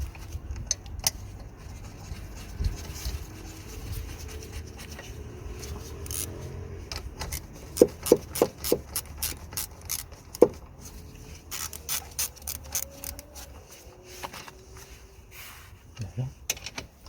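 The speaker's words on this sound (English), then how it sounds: "Now we're gonna secure the fuse box, 2 10mm bolts" Two 10mm bolts are tightened to secure the fuse box of a Mitsubishi Lancer Carisma, heard as scattered sharp metallic clicks and ratchet ticks at close range, some in quick clusters, with a person talking now and then.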